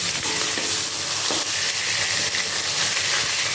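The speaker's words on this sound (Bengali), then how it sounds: "কড়া করে মাছ ভাজা দিয়েই আমি রান্না করি তাই একটা ভাজা হয়নি তার একটু ভাজতে হবে এখানে তেল গরম হয়ে যাচ্ছে" Fish fried until crisp in hot oil in a pan gives off a loud, continuous, close-up sizzle, with stirring scrapes and no voices.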